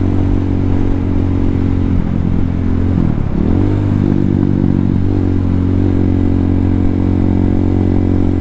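A Yamaha MT-07 motorcycle on a ride, its engine a steady, loud drone up close. Wind rushes under it, and the pitch dips and recovers once midway as the throttle changes.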